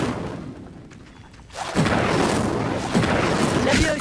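A fire spell cast in the Hogwarts Legacy video game bursts in after a quiet lead-in, a loud crackling, roaring blast that sustains with whooshing swells to the end, alone without talk.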